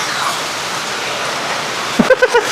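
Heavy rain pours in a dense, constant hiss during Typhoon Uwan in Tuguegarao City, with a few brief knocks and clatters near the end.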